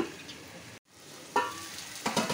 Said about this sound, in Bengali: নেড়ে নেড়ে ভালো করে আলুটাকে লাল লাল করে একটুখানি মশলা দিয়ে নুন লঙ্কা একটু ভেজে নেব